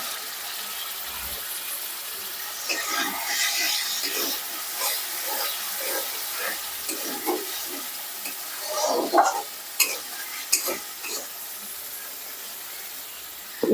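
Potato pieces go into a pan of masala that has released its oil for a katla fish curry, with continuous sizzling, stirring scrapes and a few knocks as they settle.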